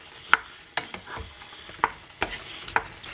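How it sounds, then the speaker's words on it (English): Several sharp scrapes and knocks of a spoon stirring seafood okra stew in a pot, a steady low sizzle beneath, close and fairly loud with uneven rhythm. "So just go ahead and stir all together."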